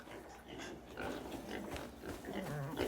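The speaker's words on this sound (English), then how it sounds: "Look at all these good pigs." Pigs oink and grunt throughout in the video game South of Midnight, a steady run of close, moderately loud animal noises with no speech over them.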